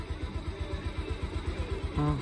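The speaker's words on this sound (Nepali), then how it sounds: "हाम्रो चाहिँ बाइकहरू स्टार्ट हुँदैछ" Motorbikes start and idle nearby before a village trail ride, a low, rapid, pulsing engine putter with a short rev or horn-like tone near the end.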